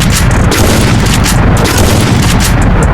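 Rapid gunfire from a sniper rifle in the Free Fire mobile game, loud and dense, with sharp shots repeating over a constant roaring background.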